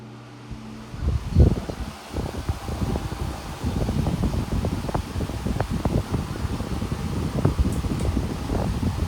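An Air King 14-inch high velocity fan runs at its top speed, giving a steady, broad whooshing rush of air with rumbling gusts after a brief startup, close to the mic and continuous.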